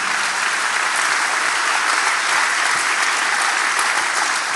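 A church congregation applauds through a sermon pause, a dense, steady roar of clapping that fills the whole stretch at full loudness, with no voice over it.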